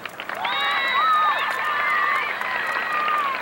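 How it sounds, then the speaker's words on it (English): A crowd at the 1991-1992 Howe High School homecoming applauds and cheers, with loud, close clapping mixed with shrill shouts and whistles that swell after a brief start and hold steadily to the end. "Let us give these ladies one more round of applause"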